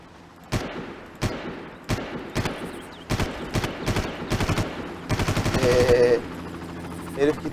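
Gunfire in Far Cry 1: close, loud single shots at a steady pace, followed by a rapid automatic burst and a few later shots, with faint game sounds between them.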